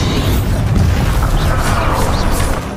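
The Bombarda blasting spell goes off in Hogwarts Legacy as a loud, dense, continuous roar of booming explosion noise that holds steady throughout, with no talk over it.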